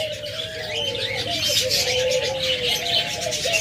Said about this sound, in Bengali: হিউজ পরিমাণ ঘুঘু পাখি রয়েছে আমাদের খামারে